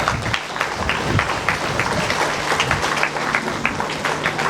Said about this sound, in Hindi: हम तालियों के साथ उनका स्वागत करेंगे।